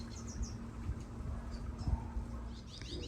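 Small birds chirp intermittently in a backyard flower garden with blooming larkspur, faint high tweets over a steady hum of outdoor background noise.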